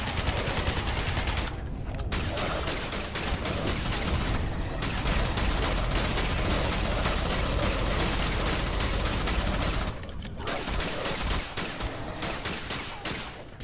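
Rapid automatic gunfire blazes almost continuously in the sci-fi shooter game Alien Breed: Impact, loud and dense, with short gaps between bursts and an engine-like hum underneath; there is no speech.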